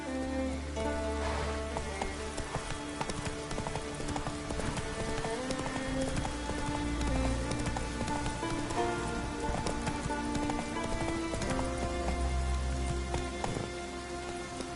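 Roach, a horse in a video game, walks with steady clip-clopping hooves over a constant patter of rain, close and even throughout.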